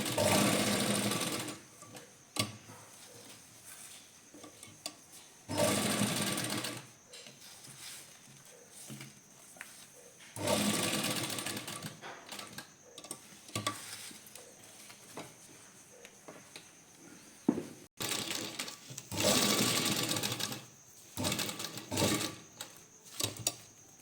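A sewing machine runs a basting stitch along a neckline in several loud bursts of rapid mechanical stitching, each lasting a few seconds, separated by quiet pauses.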